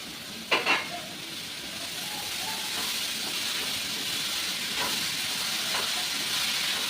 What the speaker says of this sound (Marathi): तेलामध्ये असं परतून घेते मी